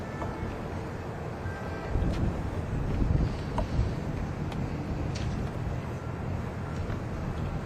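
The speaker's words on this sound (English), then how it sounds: "It's a little bit windy, folks, so just bear with me a second." Wind buffets a microphone outdoors at the Port of Baltimore with a constant low rumble and roar, gusting louder for a few seconds midway, with no talking.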